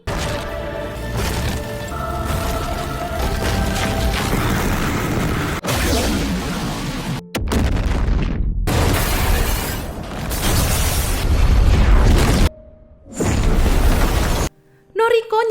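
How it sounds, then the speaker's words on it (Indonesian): Godzilla's heat ray and explosions tear through a scene in Godzilla Minus One: loud, dense booming blasts and roaring rumbles with abrupt cuts, brief near-silent gaps, and a final burst near the end. "Gojinya makin ngamuk. Dia jadi nyemburin sinar panasnya lagi."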